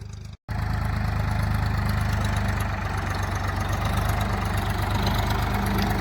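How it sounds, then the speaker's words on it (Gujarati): A tractor engine idles steadily during sowing on a farm field, a loud continuous low chugging that stops for a moment at the start, with no voices. "આપડે બળદુથી નથી વાવ્યું મિત્રો ટ્રેક્ટરથી ચાલુ કર્યું છે વાવવાનું"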